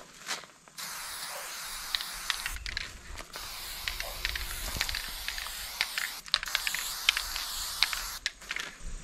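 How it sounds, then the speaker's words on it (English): White lithium grease spray hisses steadily from an aerosol can onto the wear areas of a boom lift, close and continuous with brief pauses, and no voices are heard. "So I got this white lithium grease spray that I'm putting along the wear areas."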